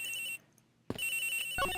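A telephone rings in the Miles Edgeworth Investigations video game, a steady electronic trill that cuts out briefly and then resumes loud and continuous.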